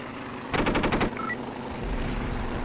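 Aircraft machine guns fire in a WW2 dogfight video game with a La-7 fighter, one loud rapid burst of about seven shots lasting half a second, over a steady engine drone.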